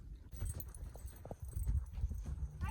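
Hooves of an Arabian gelding clip-clop in a steady walking rhythm, fairly quiet with some background noise and no talking.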